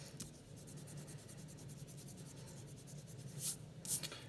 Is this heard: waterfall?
no